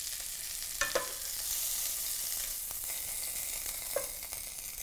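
Shrimp frying in a pan with a soft, steady sizzle, faint and fairly close, with a few light clicks and taps of a utensil against the pan and no talking.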